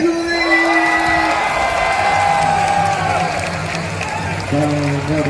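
Baseball stadium crowd at a Chinese Taipei World Baseball Classic game, a dense roar of cheering and clapping with chanting voices and cheer-squad sounds layered over it, loud and continuous.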